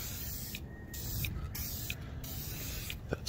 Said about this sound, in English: Now we got to do is just spray it.